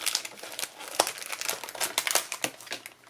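Plastic packaging around an embossing folder being opened up close, with a run of crisp crinkles and crackles at an irregular rhythm and no talking.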